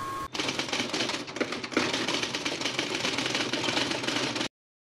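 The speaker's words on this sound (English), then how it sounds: "Okay, so I'm torquing this up." On a Land Rover 200tdi engine with the front cover removed, a torque wrench ratchets a bolt tight in rapid, close clicking for about four seconds before the sound cuts off.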